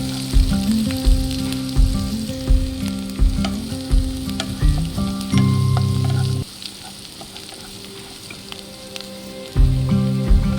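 Chopped garlic frying and browning slowly on low heat in a pan for poori bhaji, a loud, steady close-up sizzle with rhythmic stirring clatter throughout and no voices.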